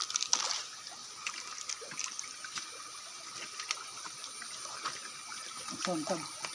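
A river in a forest flows steadily with light sloshing and trickling, close by and moderately quiet, with scattered voices over it.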